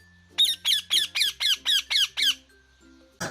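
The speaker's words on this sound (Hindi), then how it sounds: "वो हिमालयन पैराकीट है" Himalayan parakeet and rose-ringed parakeet calling outdoors during a bird-watching outing in Uttarakhand: a run of eight loud, evenly spaced harsh squawks, followed by a brief final note after a pause.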